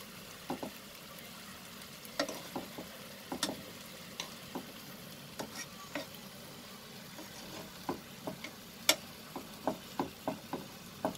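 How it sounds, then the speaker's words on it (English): Chicken pieces frying in a pan: a soft steady sizzle with scattered crackles and small pops throughout, fairly quiet and close, no voices. "After 1 minute of frying it like this, I'm going to turn the chicken the other side."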